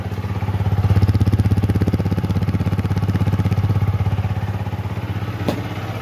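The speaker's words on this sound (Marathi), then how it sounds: "गाडीचा एक्झॉस्ट नोट बघा." A motorcycle idles close by, its exhaust note thumping in a fast, even pulse that holds steady throughout, with one brief clack near the end.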